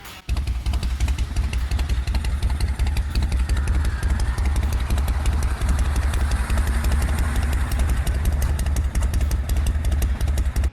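A carbureted Yamaha Road Star custom motorcycle with bent pipes and a straight free-flow exhaust runs close by, a loud, deep, steady throbbing rumble with fast regular pulses and no talk.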